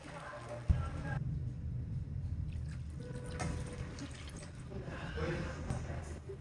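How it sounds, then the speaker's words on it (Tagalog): One and a half cups of water is poured into sautéed tomatoes in a cooking pot while making eggplant and egg soup, a steady rushing splash that runs for several seconds under quiet kitchen sounds. "maglalagay lang ako ng isa't kalahating tasa ng tubig"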